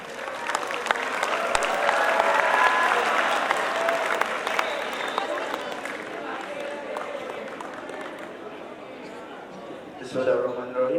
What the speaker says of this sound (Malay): bagi tepuk tangan semangat sekali ya